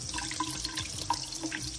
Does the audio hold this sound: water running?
yes